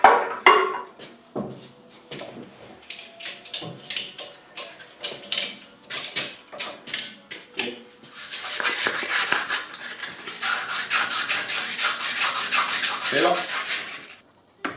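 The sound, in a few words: sanding a hydraulic cylinder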